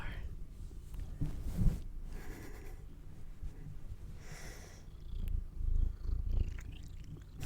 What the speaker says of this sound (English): You gonna give us a purr?